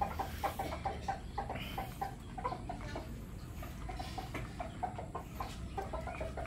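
A gamecock being conditioned clucks in soft, repeated short calls that come close together against low farmyard background noise, with no one speaking.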